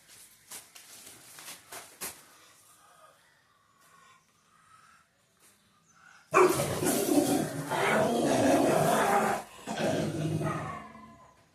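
A Labrador dog barks and growls loudly and continuously, close by, after a stretch of quieter scattered noises.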